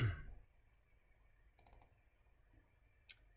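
A computer mouse button clicked a few times in a quiet room, with short, light clicks: a quick cluster, a pause, then one more click.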